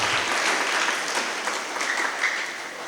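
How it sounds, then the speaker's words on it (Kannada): At an award ceremony, an audience applauds Ganapati Bhat with loud, dense clapping that holds steady for a few seconds without any voices over it. "ಗಣಪತಿ ಭಟ್ರಿಗೆ ಜೋರಾದ ಚಪ್ಪಾಳೆಯನ್ನು ಹೊಡೆಯೋಣ"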